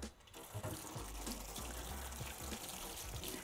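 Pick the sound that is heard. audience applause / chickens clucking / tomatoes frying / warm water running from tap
warm water running from tap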